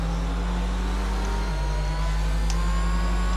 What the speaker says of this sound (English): I love the sound of the engine, the sound the engine makes